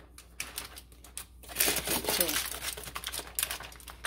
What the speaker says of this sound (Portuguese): Eu dei uma amassadinha nesse papel manteiga, para ele ficar mais fácil de ficar aqui nessa forma.